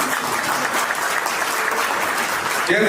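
A crowd at an Indian Overseas Congress event in New York claps steadily for about three seconds, a dense and loud wash of applause that goes on without a break.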